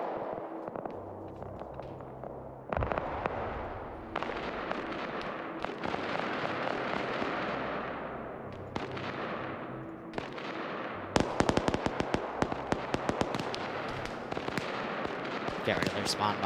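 Explosions in a military video game with an AC-130 overhead, a series of booming blasts and crackling bursts, some distant and some close, with a dense run of rapid cracks toward the end and people talking over them.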